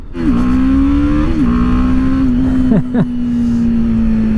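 A BMW G 310 R motorcycle is ridden at speed, its engine holding a steady, close drone with brief revs as it shifts and accelerates, wind rushing underneath.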